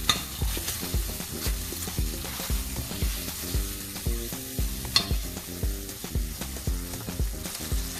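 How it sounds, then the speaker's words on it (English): Vegetable bouillon being stirred into a vegan pasta sauce in a pot, a steady rhythmic scraping and swirling that repeats over and over at close range, with a faint sizzle underneath and no talking. "Stir that in a little bit."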